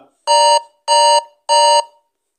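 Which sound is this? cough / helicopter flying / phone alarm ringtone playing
phone alarm ringtone playing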